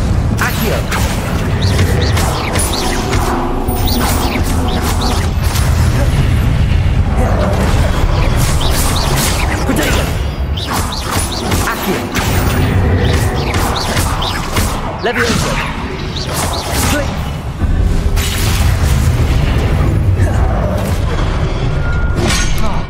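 Confringo explosive spell in the video game Hogwarts Legacy, loud booming blasts and crashes amid dense combat clatter and whooshes, repeated through the fight while someone talks over it.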